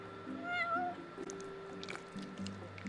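A cat meows in the video game Final Fantasy XV, a couple of short rising mews near the start over a steady game music bed, with a faint splash later.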